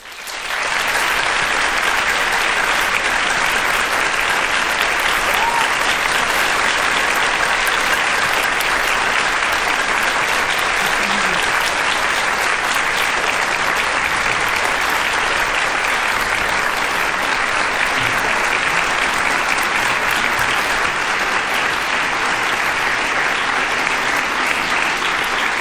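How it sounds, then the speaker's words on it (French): A large audience gives warm, prolonged applause to welcome illustrator Alan Lee at a Tolkien evening at the national library, a loud, unbroken roar of clapping that holds steady for nearly half a minute. "je vous demande d'applaudir"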